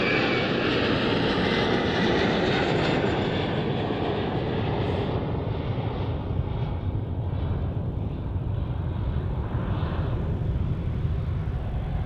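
An Airbus A321 jet takes off at Helsinki Airport, its engines a loud, continuous roar that holds steady and then slowly thins as the aircraft climbs away.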